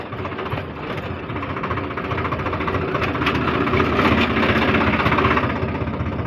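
A Swaraj 855 tractor engine runs steadily at close range, a loud, dense diesel rumble with a knocking pulse that builds slightly in intensity throughout.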